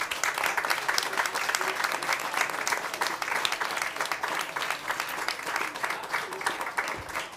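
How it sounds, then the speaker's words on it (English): A conference audience at a women's forum in the Wachau applauds its speakers, sustained dense clapping filling the room at steady strength throughout. "So please, a big round of applause for our speakers."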